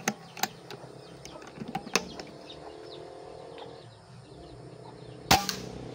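A Taurus Toys SN24-0072 toy gun fires several sharp, snapping shots outdoors, a quick cluster early on and then a single louder crack after a pause, with faint birds in the background.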